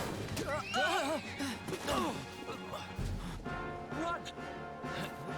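Horses in the video game Dragon Quest XI whinny and neigh repeatedly amid clattering and thuds, with voices talking over the noise.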